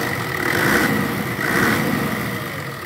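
A 2002 Toyota Sahara's 1HD diesel engine idles with a Marclais ecological valve fitted to the intake manifold, a steady close rumble with a faint whine and slight pulsing, no voices.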